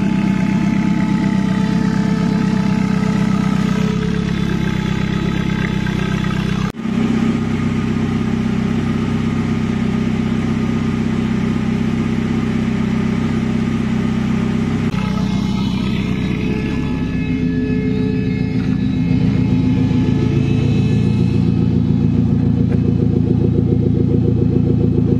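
A Commer 2.3 turbo engine running on its old fuel pump, a steady loud mechanical drone with clattering texture throughout, changing pitch slightly partway through.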